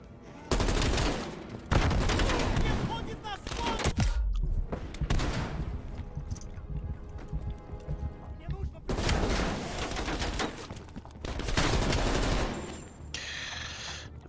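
Rapid automatic rifle fire, an XM4 in the Call of Duty: Cold War singleplayer campaign, comes in loud bursts with brief lulls between, while a voice talks over parts of the shooting.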